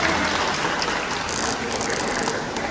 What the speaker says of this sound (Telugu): ఒకసారి గట్టిగా చప్పట్లు కొట్టండి చైర్మన్ గారికి